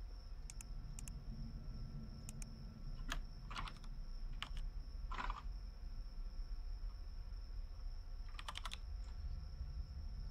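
Typing on a computer keyboard, steady soft key taps throughout with a few louder clicks, over a constant electronic hum and a faint high whine, no talking.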